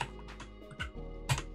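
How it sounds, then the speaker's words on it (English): Someone types on a computer keyboard in a short burst, a few close, crisp keystrokes spaced irregularly. "we're going to type"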